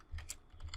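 A few quick keystrokes on a computer keyboard while editing code, soft and close, two short bursts of clicky taps in under a second with no voice.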